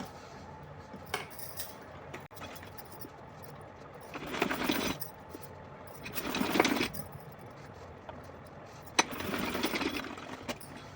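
A sewing machine stitching cloth for a small Laddu Gopal dress, three short bursts of rapid mechanical whirring separated by quiet pauses and faint handling clicks, close by.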